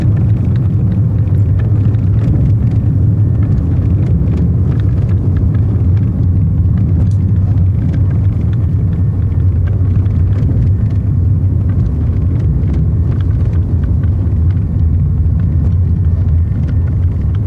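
Hawker business jet rolling down the runway after landing with speed brakes out in X-Plane 11, a loud, steady low engine and rolling rumble that holds even throughout.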